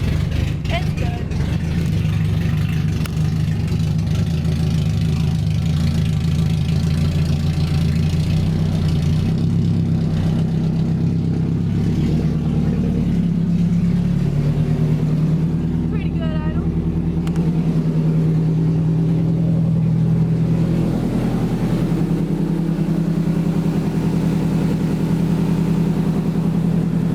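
A car's engine idles steadily and loudly nearby after its fuel pump was rewired following a total power loss mid-drive, a constant low rumble running throughout with brief voices in the background.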